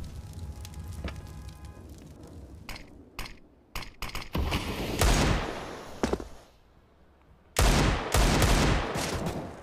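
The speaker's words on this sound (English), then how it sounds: "It's Flamey not landing the shots needed there" Gunfire fills a Counter-Strike: Global Offensive match on the Train map. Sharp single shots ring out, followed by dense bursts of loud automatic fire, with quieter gaps between them.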